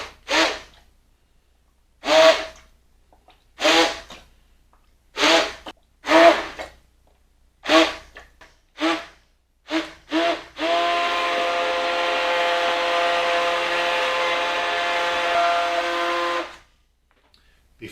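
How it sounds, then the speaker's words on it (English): An immersion blender pureeing butternut squash soup, a steady whirring drone held for several seconds after a run of short pulses, with a person speaking in between. "we're going to take our immersion mixer and carefully, so we don't make a splattering mess on it"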